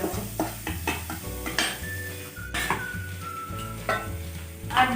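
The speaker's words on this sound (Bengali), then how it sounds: "এটা দিয়ে একটুখানি মশলাটা 20-30 সেকেন্ড মতো একটুখানি মিক্স করে নেব" A spoon stirs and scrapes spice masala with sugar in a hot pan for egg chicken Mughlai paratha, making repeated metallic scrapes over a steady sizzle, close up and with no talking.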